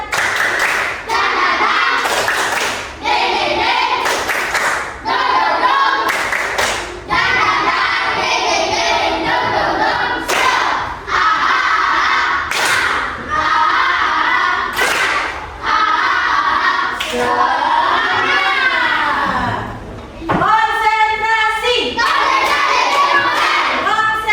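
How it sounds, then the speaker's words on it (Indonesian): A primary-school class of fourth-graders doing a rhythmic spirit clap: sharp, loud bursts of many hands clapping in patterned beats, with children chanting and shouting between the clap sequences. "Tepuk semangat."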